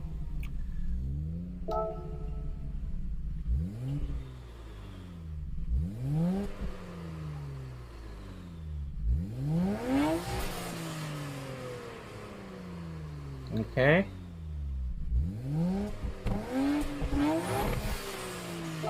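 The Nissan R34 GTR Z-Tune in Gran Turismo 7 revs repeatedly, its engine climbing hard through gears then dropping between pulls, with brief tire squeal; a voice speaks once briefly.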